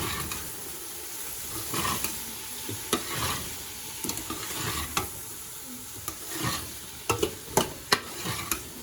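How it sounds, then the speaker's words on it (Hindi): Spiced potatoes with black pepper and dry masala are stirred and fried in a pan, giving a steady soft sizzle broken by scraping strokes and sharper clicks of the spoon against the pan, close up, with no talking. "इसको 2 मिनट के लिए मैं मिक्स करती हूँ और भूनती हूँ"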